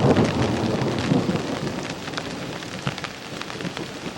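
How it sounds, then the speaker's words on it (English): Steady rain patters on a surface with a low rumble of distant thunder underneath, continuous and fairly close. "There are thunder showers just starting to occur"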